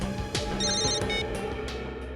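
A telephone rings with an electronic ringtone in a police crime drama, a few bright repeated tones in quick succession, loud and close, with no talking over it.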